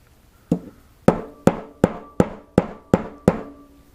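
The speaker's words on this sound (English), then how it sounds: "Just tapping it hard enough to not bend the screw, or the nail, but still go in" Seven sharp hammer taps on a nail driven into a bearing seal, spaced roughly half a second apart, each ringing briefly before the next strike, close and clear.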